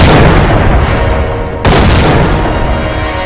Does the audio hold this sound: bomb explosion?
yes